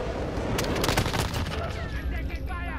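Rapid automatic gunfire crackles in a first-person shooter video game, with a dense volley of close shots and explosions, while radio-style voices speak over the battle noise.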